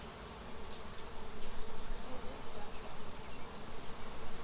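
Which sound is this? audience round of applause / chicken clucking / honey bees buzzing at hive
honey bees buzzing at hive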